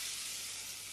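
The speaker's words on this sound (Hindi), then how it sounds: "और फिर इसके बाद हम इसमें डालेंगे कड़ी पत्ता, जिसको हम 10 से 15 सेकंड चटकने देंगे" Mustard seeds and curry leaves sizzle in hot oil for a tadka tempering, a close, even hiss that runs on its own for a moment.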